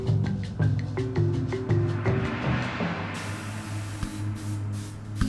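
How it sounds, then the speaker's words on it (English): Chlorine disinfectant hisses from a sprayer inside a room, a steady broadband spray that swells and continues over low background sounds. "They sprayed grandfather's room and his body with chlorine to destroy the Ebola germs."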